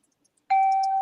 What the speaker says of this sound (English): Play the China bell